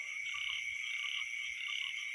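Frogs call in a rice field at night in a steady pulsing chorus, with a continuous high insect drone above and soft low croaks, distant and even, with no talk.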